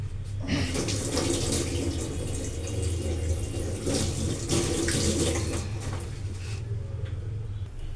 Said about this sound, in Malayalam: അപ്പം അത് നമുക്കൊന്ന് കൈ കഴുകിയിട്ട് വരും.